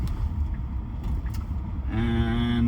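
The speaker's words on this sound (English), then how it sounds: "There's a car coming behind me, but I had my blinker on for a while, and it's pulling in." A car pulls in behind a driving Tesla, its engine tone rising out of the steady road rumble in the final second, fairly close and alone without voices.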